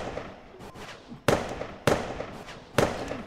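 Flare guns fired like fireworks in the Ark video game, three sharp loud bangs at roughly regular intervals, each trailing off, over a steady background hiss.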